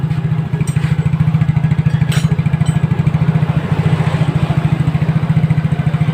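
A Yamaha Mio J scooter exhaust runs at a steady idle, a loud, close, evenly pulsing low putter throughout with a faint clatter on top.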